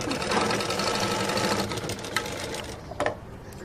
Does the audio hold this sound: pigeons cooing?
no